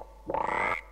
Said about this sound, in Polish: Jaka żaba.